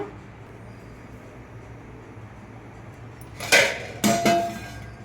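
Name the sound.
putting a lid on a pot of fish curry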